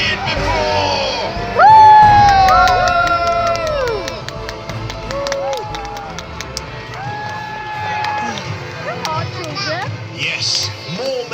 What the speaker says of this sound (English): Cheer now like you've never cheered before.